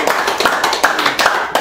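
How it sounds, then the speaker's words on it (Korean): Applause from a lecture audience at a business seminar: a short burst of clapping with several distinct hand claps standing out, fairly close and moderately loud, with no talking. "박수."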